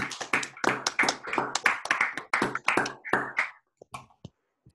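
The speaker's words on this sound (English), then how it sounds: "Oh, can we clap?" Scattered hand claps from a small seminar audience at the close of a virtual astrophysics talk, a dense burst of taps that thins to a few isolated claps and then stops.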